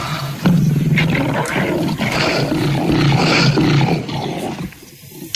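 A pride of about fifteen hungry wild lions roars in deep, overlapping, rumbling calls that rise and fall continuously, loud and close, before fading toward the end.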